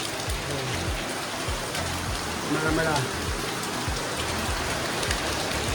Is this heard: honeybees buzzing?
no